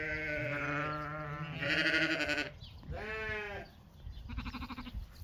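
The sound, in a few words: lamb bleating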